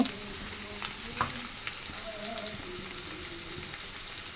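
Onions sizzle steadily in a hot pan for Bengali home cooking, a constant frying hiss with occasional light stirring clicks and no voice.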